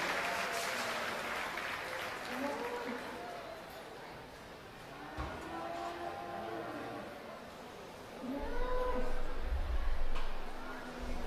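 Audience at a youth livestock show applauds, loose clapping rising and falling around a speaker's amplified voice, with occasional low cattle sounds nearby.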